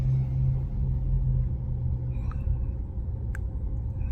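A video game car, a Peugeot 206, rumbles steadily at close range as it approaches, its low drone easing slightly over a few seconds, with a couple of faint chirps in the background.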